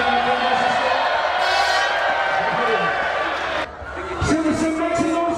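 A crowd cheers and whoops at a chilli eating contest at the Silverstone Woodlands F1 Grand Prix 2017, a steady loud roar with scattered claps and shouts, mixed with close talking.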